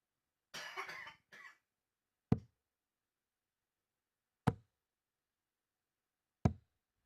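A couple of short coughing bursts, then three sharp isolated knocks or thumps spaced about two seconds apart in an otherwise quiet room at a darts tournament.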